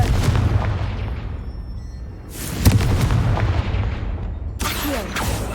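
A fire-blast spell explodes in the video game Hogwarts Legacy, giving deep booming bursts with crackling tails, loud and close, with sharp blasts recurring several seconds apart over a rumbling background.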